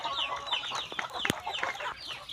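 Farm chickens, a mix of fighting cocks and local breeds, cluck and squawk repeatedly at close range, a dense overlapping chatter with no talking.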